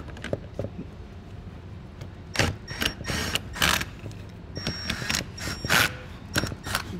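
A socket wrench works a bracket bolt loose during a trailer hitch install on a 2020 Chrysler Pacifica, giving scattered metallic clicks and short ratcheting bursts up close.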